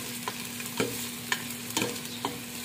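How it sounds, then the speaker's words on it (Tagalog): Onion and garlic sauté in a pan with a continuous sizzle, broken by several distinct scraping and stirring strokes from a utensil, close up and with no voices. "So, ito, sinusutay na natin ang onion and garlic."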